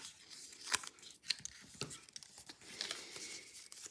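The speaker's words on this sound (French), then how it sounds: "on peut passer un petit coup de plioir pour avoir des plis bien nets" Paper is creased along its folds with a bone folder for crisp scrapbooking fold lines, giving short dry rubbing and crinkling strokes with a few sharper scrapes, close up and with no talking.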